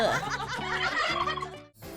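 A cartoon turkey gobbles in a quick, loud rattling burst over a busy musical backing, continuing for about two seconds with a brief dip near the end; no one speaks.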